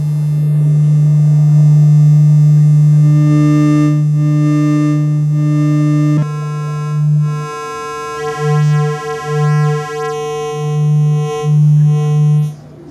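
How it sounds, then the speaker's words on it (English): A steady synthesized sine-wave tone with rich harmonics, patched into an Intellijel warp circuit, holds for several seconds, then breaks into pulsing, warbling bursts as its timbre bends and folds. "So I'm going to patch a sine wave into the warp circuit."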